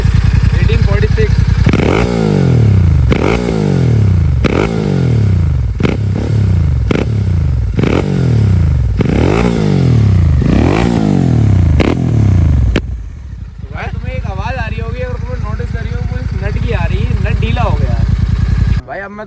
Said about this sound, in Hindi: भाई अब मैं तुम्हें अपनी बाइक का साउंड चेक कराता हूँ, जो कि अपनी फुल सिस्टम एग्जॉस्ट लगा हुआ है